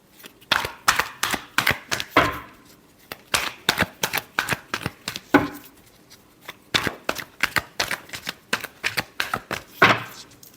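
Tarot cards being shuffled, heard close up as a rapid series of crisp riffling bursts separated by brief pauses, with no talking.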